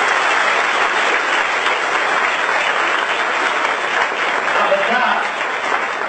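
Steady, dense applause from a seminar audience at a GPSC exam guidance event, sustained and even for the whole stretch with no pauses or clear individual claps standing out.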